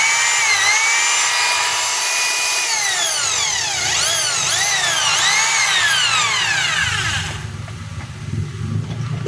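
A DeWalt D25032 rotary hammer is test run after being rewired, giving a loud, close, continuous motor whine with rising and falling pitch sweeps midway before easing off near the end; no talking.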